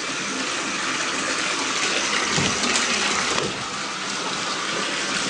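Water gushing steadily into a bath, a loud continuous rushing pour with little change over several seconds.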